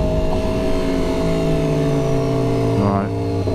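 A superbike pulling away during a Honda Fireblade SP versus Aprilia RSV4 1100 comparison, its engine note rising steadily in pitch through the gears, loud and close, with a short dip near the end as it shifts.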